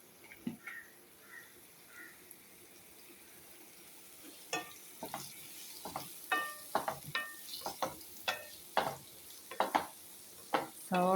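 Onion sautéing in a pan with ginger and garlic paste, a soft sizzle under a run of close, irregular scraping and clinking stirs that grow more frequent toward the end.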